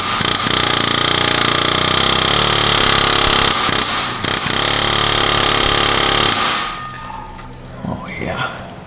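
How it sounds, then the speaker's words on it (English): Loud, continuous rapid hammering of a pneumatic air hammer on a coupler during rear differential work on a 2018 Buick Encore rattles for about six seconds, then cuts off, leaving quieter clanks and shuffling. "We're gonna very gingerly massage it with the air hammer."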